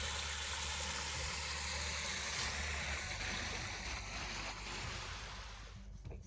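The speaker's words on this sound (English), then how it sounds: "you can see that there's a really cool waterfall right here" A waterfall on a gorge hiking trail gives off a steady broadband rushing roar, loud and constant, easing slightly near the end.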